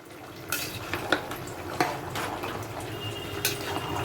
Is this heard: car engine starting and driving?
no